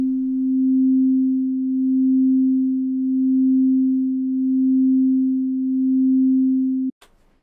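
A steady pure sine tone holds for about seven seconds, its level slowly swelling and dipping in regular waves as phase cancellation drifts in and out, then it cuts off abruptly with a brief click.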